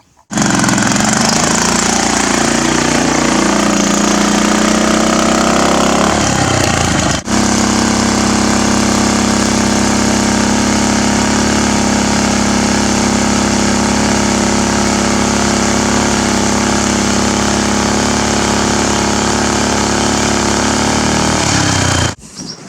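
A small kicker outboard motor on a homemade barrel boat, started up and running loud and close with a steady buzzing drone, briefly changing pitch early on before settling into a continuous run that cuts off at the end.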